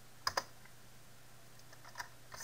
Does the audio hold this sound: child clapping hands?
no